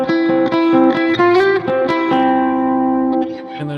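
Bright, close electric guitar picks the outro lead of a song, with ringing arpeggiated notes in a quick rhythm that lets the last chord sustain and fade.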